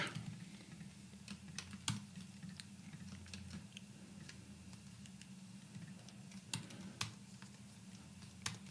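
Keys clatter on a computer keyboard in short, irregular bursts of faint clicks, with a few louder taps, over a quiet low hum.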